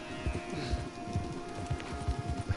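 Horse hooves clip-clop at a steady walking rhythm in Red Dead Redemption 2, several horses on a wooded path, moderately close with a faint continuous game ambience beneath.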